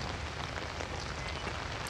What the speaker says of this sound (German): diese verschissenen Regentropfen